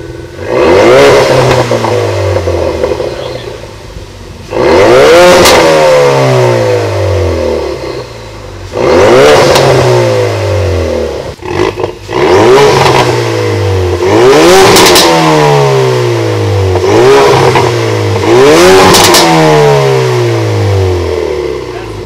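A Ford Focus RS with a newly installed MBRP exhaust revs hard again and again, about six loud, close bursts that climb and fall back, with a throaty rumble between them.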